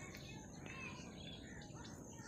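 Birds chirp and tweet faintly in farmland in the morning, scattered calls rising over a soft steady outdoor background.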